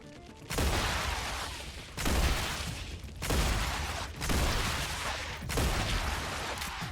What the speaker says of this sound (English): satisfying exploding bugs